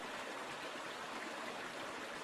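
A river flows behind someone standing outdoors, giving a steady, even rush of moving water that holds constant throughout with no voice over it.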